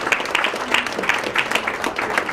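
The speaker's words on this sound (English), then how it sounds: "Give yourselves a pat on the back and a big applause." A conference audience claps in a short burst, with individual hand claps audible in an uneven rhythm over a couple of seconds.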